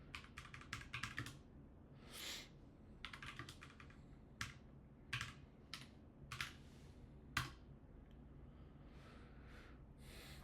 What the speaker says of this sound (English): Let me just go ahead and type it in real fast so we're together.